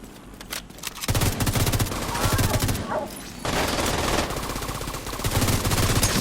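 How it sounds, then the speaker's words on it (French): Heavy automatic gunfire, in a shooting game with an apocalypse setting in Los Angeles, bursts out in sustained rapid volleys after a short lead-in, loud and dense throughout. "Oh là là, ça tire, les gars."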